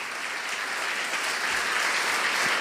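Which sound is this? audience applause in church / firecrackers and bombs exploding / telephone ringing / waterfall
audience applause in church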